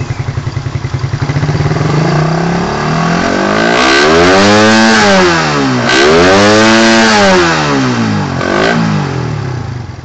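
A Raider 150 motorcycle engine idles with a rapid putter, then revs up loudly in rising and falling sweeps several times, close and continuous.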